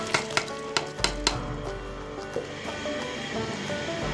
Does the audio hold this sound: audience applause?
no